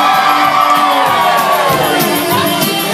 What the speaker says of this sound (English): Everybody grab hands and scream as you go to the middle.